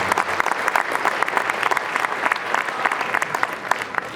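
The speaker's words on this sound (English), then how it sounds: "So I really want to give a round of applause for the trombones." An audience at a sixth grade holiday school band concert applauding the trombone section, dense steady clapping from many hands, fairly loud and continuous for the whole stretch.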